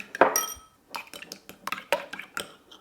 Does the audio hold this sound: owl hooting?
no